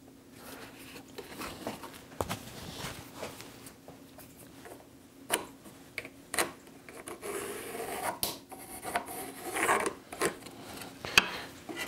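Rasping and filing on wood while shaping a paper towel holder, irregular scraping strokes at moderate volume, with occasional brief pauses between passes.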